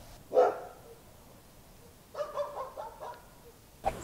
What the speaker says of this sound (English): Just a bunch of dogs. Just the dogs.